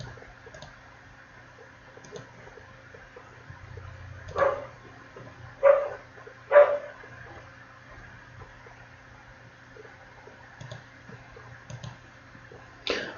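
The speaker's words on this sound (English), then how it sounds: "there's a dog downstairs where I'm living" A dog downstairs lets out three muffled, fairly distant barks in quick succession, with soft clicking heard before and after in a quiet room.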